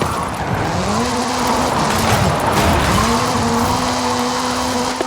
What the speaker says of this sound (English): This is Mr. Kenneth Block's Hoonigan Gymkhana 10 Ford Focus RS RX.